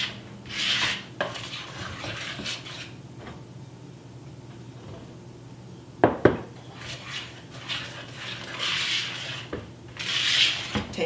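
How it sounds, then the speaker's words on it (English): Dry ingredients are gently folded into a pumpkin spice batter, with soft scraping and rubbing strokes and occasional clinks of a utensil against the bowl, close and fairly quiet, with no talking. "Just kind of gently fold in those dry ingredients."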